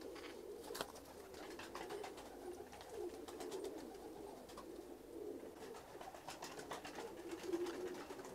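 Several pigeons of mixed breeds, including white birds, coo steadily in a loft, soft repeated calls overlapping at a moderate distance with constant low background noise.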